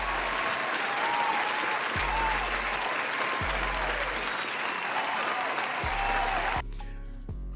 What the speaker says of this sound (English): let's give it to him